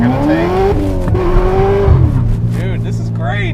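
A 1985 C4 Corvette kart drives close by with a loud, sustained engine drone. Its pitch climbs, holds, then drops as the kart shifts and slows, and voices talk over the engine near the end.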